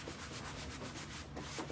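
A scrub pad or sanding block is rubbed quickly back and forth over a sprayed surface, making a quiet, close, steady rhythmic scrubbing sound with no talking.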